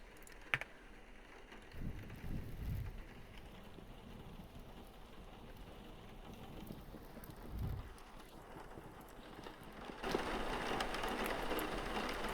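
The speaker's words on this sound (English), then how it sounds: "The rain against the glass. I could literally just listen to that all day." Soft, steady patter of rain tapping against window glass, faint and continuous, with a few low thumps and a brief louder rush near the end.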